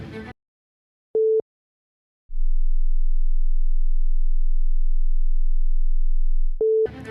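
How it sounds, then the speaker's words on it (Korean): A short beep sounds, then a very deep, steady 20 Hz test tone holds for several seconds before stopping, followed by another beep, with brief talk at the edges. "먼저 20Hz의 저주파 소리를 들어보겠습니다."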